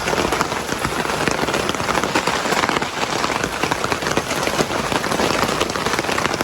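Steady heavy rain pattering on a surface at a campsite in Malaysia, a dense continuous hiss of drops with no pauses.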